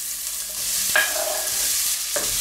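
Onion frying in melted clarified butter (Butterschmalz) in a pan makes a close, constant hiss broken by a couple of short clattering stirs, with no voices.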